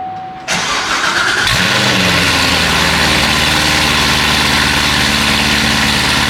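A 2014 Corvette Stingray cranks and fires up with a loud, close bark, then settles into a steady, deep idle that rumbles on without a break.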